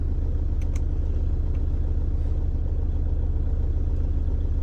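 A Toyota Innova 2.5V with 1,72,500 km on it idles steadily: a constant, close, low engine rumble with an even throb that holds throughout, with no talking.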